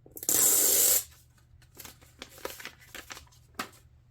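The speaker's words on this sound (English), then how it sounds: "Pull off the side sticker." A side sticker peeled off a stencil storage pocket, with one loud, close tearing rip at the start, then softer crinkling and handling rustles afterward.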